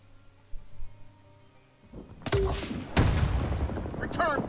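A quiet stretch breaks into loud, sustained gunfire in Rising Storm 2's Vietnam War battle at Hue City with US Marines, with sharp close shots over a rumbling exchange and a voice briefly heard.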